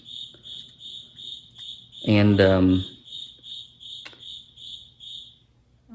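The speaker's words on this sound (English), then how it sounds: "That Cricket, my goodness." A cricket chirps in steady, evenly spaced high pulses throughout, close and persistent, while someone briefly speaks over it in the middle.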